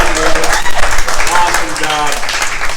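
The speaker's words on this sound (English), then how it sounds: "Can we get another round of applause for Addison?" Applause from a comedy club crowd in Bend, Oregon, after a stand-up set, a dense wash of clapping running under a host's loud voice throughout.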